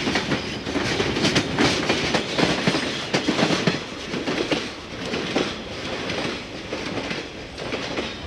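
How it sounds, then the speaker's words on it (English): A northbound Soo Line general freight grain train headed for St. Paul, Minnesota rolls past close by, a steady loud rumble with rhythmic wheel clatter that holds for the whole stretch. "That was a northbound Soo Line general freight grain train heading for St. Paul, Minnesota."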